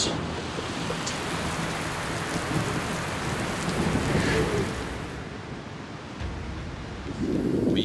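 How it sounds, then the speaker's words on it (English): A heavy rainstorm pours down in a dense, continuous hiss at an off-grid compressed earth block house build, with low rumbles of thunder rolling underneath and swelling near the end; no one speaks. "We got a big storm coming."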